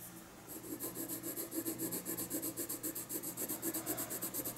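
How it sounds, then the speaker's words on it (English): A colored pencil burnishing a drawing on paper, a soft rhythmic scratching of quick repeated back-and-forth strokes, close and faint, with no talk. "let's do a little bit of burnishing."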